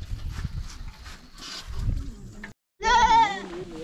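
A goat about to be slaughtered at a Christmas gathering in Kenya gives a wavering, nasal bleat near the end, following a stretch of muffled voices and household noise.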